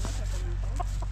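Chickens in a chicken tractor being moved onto grass cluck close by in short, excited bursts over a low steady hum.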